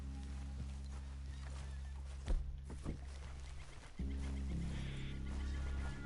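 Horses ridden by a group in the Red Dead Redemption 2 video game, with steady hoofbeats and occasional snorts over a low continuous hum, brief louder thumps partway through.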